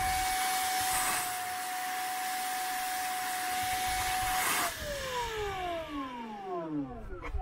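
A Brigii M1 handheld vacuum and air compressor runs with a steady motor whine and hiss, then winds down as it switches off near the end, with the pitch sliding downward.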